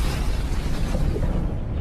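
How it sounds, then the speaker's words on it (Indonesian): A bomb explodes in an action film scene, a dense, loud rumbling blast that fills the whole moment without any clear onset or tail. "bom itu meledak"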